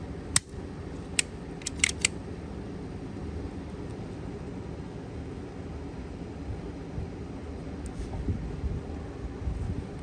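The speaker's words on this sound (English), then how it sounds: "We're gonna have to cut this end off." A ground wire on a Craftsman LT1000 riding mower is snipped off with a few sharp, close cutting clicks early on and one later, set against a steady low background rumble.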